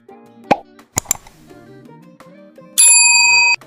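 A notification bell sound effect: a few soft plops and pops, then a bright, sustained bell ring that holds clearly for under a second before cutting off.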